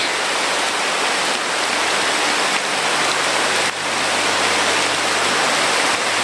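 Steady rain pours in the mountains, a dense, even hiss close by that continues without a break and without any talking.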